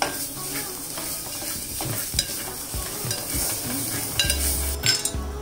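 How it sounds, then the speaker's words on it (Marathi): Curry with added chili powder is sautéed in a pan, a soft frying sizzle under repeated scraping and clinking stirring strokes heard close up, with no voices. "आता ह्याच्यामध्ये तिखट घालून जरा परतते"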